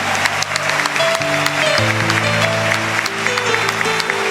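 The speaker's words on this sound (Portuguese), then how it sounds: "Aplauda esse Deus que faz o mar se abrir na sua vida." A church congregation applauding, continuous dense clapping heard over sustained organ or keyboard chords in a large worship space.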